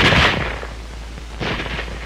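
A bolt-action rifle fires two shots, close and loud, roughly a second apart, each a sharp blast with a rumbling decay over a low hum.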